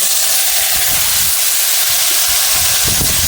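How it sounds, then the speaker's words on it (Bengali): Curry is poured into a hot kadai of fried spices and bay leaves, giving a loud, continuous hissing sizzle like escaping steam, with low bubbling thumps underneath, close and without talk. "এবার আমি তরকারিটা ঢেলে রেখেছিলাম ঢেলে দেবো"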